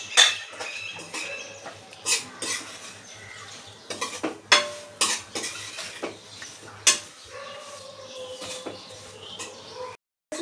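Semolina stirred and roasted in ghee with raisins in a pan for sheera, a spoon scraping and clinking against the metal in irregular strokes, fairly close, with soft pattering grains between scrapes.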